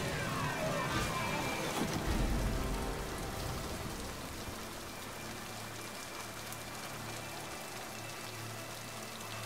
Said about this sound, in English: I imagine this rain to be like warm, humid rain.